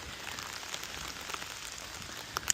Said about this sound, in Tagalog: Yan na, lakas ng ulan.